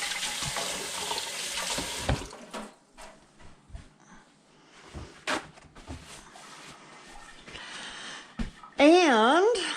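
Tap water runs into a kitchen sink as chopped onion is rinsed, a steady hiss at first that breaks into splashes and clatters, with a voice briefly heard near the end.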